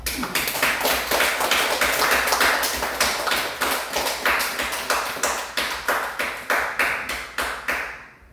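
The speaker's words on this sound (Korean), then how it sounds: "우리 영광을 주시는 그 하나님께 박수 올려드리겠습니다." Church congregation clapping together during a Sunday service, steady unison claps in a quick regular rhythm, close and loud, easing off in the final second.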